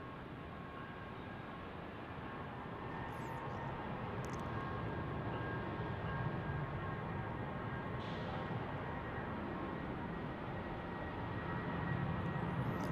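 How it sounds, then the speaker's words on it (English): A JetBlue Airbus A320 taxiing at Salt Lake City airport gives off a steady, distant engine roar with a faint whine that holds level throughout. "JetBlue's rolling off to JFK on the Airbus A320."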